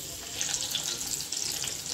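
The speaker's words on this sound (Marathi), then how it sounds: "हिरवी मिरची छान तडतडली की त्यात भाजी घालायची" Green chilies splutter in a spoonful of hot oil in a pan on a gas stove, a soft, steady sizzle with light crackling, fairly quiet and close, with no talking.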